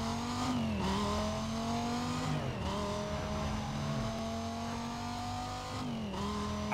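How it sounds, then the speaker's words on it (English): Opponent's race car engine in Need for Speed: Most Wanted roars loud and close, revving through gear shifts with rising and falling pitch and brief tire squeal, with no talk over it. "I hear his engine right behind me."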